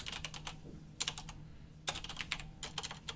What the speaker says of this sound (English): Wow, great typing.